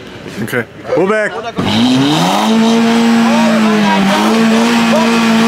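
A VW Golf GTI at a tuning meet revs loudly right beside its exhaust, rising into a sustained, droning engine note held near the tailpipe after a brief shout at the start.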